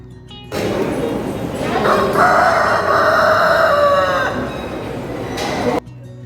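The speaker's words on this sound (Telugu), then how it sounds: "ఇక్కడ చూడండి కోడిపుంజు ఉంది అరుస్తానే ఉంది" A rooster crows one long drawn-out call, loud and close, in the courtyard of the Murugan temple at Kundrathur, Chennai, with faint background noise around it.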